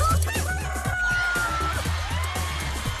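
A game show contestant imitates a rooster crowing in a TV studio, with one long, loud wavering crow over studio audience noise and light cheering.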